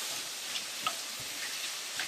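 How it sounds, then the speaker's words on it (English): Bell peppers and green onions sauté in a pan with a steady, soft sizzle and faint crackle, a few light clicks of stirring scattered through, with no voices. "we're gonna allow our veggies to saute and pick up some of those beautiful flavors at the bottom of the pan"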